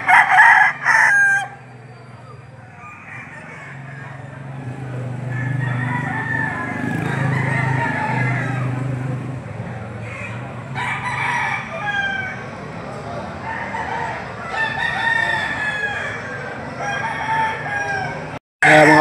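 Roosters crow at a poultry market where Sweater gamefowl are sold. Repeated loud crows come from several birds near and farther off, over a busy background with clucking and voices talking.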